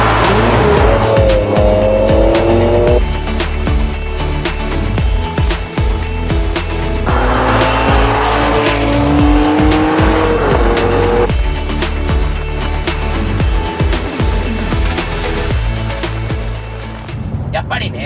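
A Ferrari 599 sports coupe revving loudly on a test drive, with engine notes rising and falling through fast downshifts and occasional tire noise, continuous and close throughout the clip.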